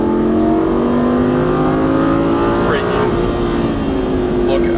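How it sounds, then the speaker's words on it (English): Lamborghini Gallardo Superleggera LP570-4 engine pulling hard under steady throttle, a loud continuous drone with rising harmonics as it accelerates, heard from inside the car. "Squeeze on throttle."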